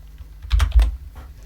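Typing on a computer keyboard while setting up Python's IDLE on a PC: a few quick, close keystroke clicks in a short cluster, alone in a quiet room with no talk.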